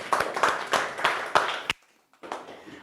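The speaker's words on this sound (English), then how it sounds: "So can we clap for her?" A small group of trainees claps for a student in a training session, a run of sharp, close handclaps that stops briefly before a few more claps resume.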